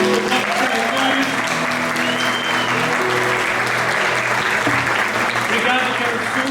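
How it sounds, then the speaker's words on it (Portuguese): An audience at an evening church talk show event bursts into sustained applause, dense steady clapping filling the room for several seconds at full volume. "Uma salva de palmas para"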